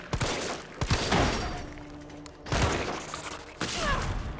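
Gunfire in the video game Resident Evil 3 comes as sharp bursts of shots and thuds in separate clusters, loud and close with game ambience between them and no talk.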